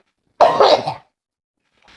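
A single loud, close cough bursts out for about half a second, then silence follows.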